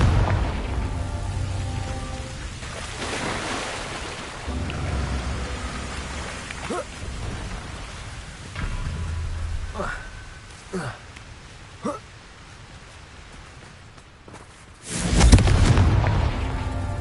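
Confringo blasting spell from a Harry Potter video game goes off with sharp cracks and a loud, booming explosion near the end, over a steady rumbling game soundscape.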